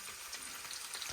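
Onion sizzles in hot oil in a pan for a liver fry dish, a steady close crackling hiss with no talk.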